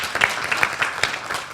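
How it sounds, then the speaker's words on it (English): At a luncheon, a small audience gives a brief round of applause, with a short burst of close, uneven hand claps that fades quickly. "Chris, please give him a round of applause"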